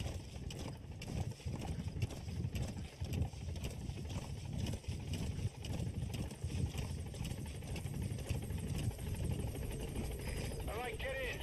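A support helicopter in a live-streamed game arrives at a landing zone, its rotor and engine droning steadily and fairly quietly throughout, with a faint flutter and no clear rise or fall.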